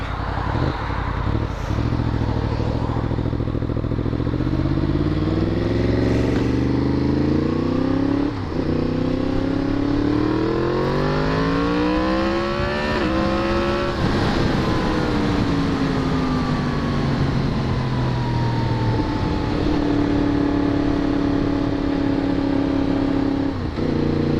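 A Yamaha FZ-10 motorcycle with a Yoshimura exhaust revs up repeatedly nearby, its engine tone climbing and dropping in long sweeps with brief sharp pops between revs, loud and with no talk over it.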